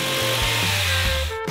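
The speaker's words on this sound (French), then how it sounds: "vous devez couper le contreplaqué pour les parois avec une scie sauteuse électrique" An electric jigsaw whines steadily as it cuts through plywood, the motor pitch shifting slightly under load, loud and close with no voices.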